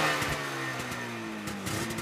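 A Trabant-engined race car at the Gabelbachberg hillclimb revs loudly and close by, its buzzing two-stroke note wavering up and down through short throttle blips.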